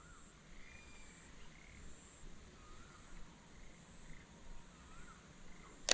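A frog croaks faintly during frog fishing with a line and bait. The soft, scattered croaks sit under a steady chorus of crickets and insects at night.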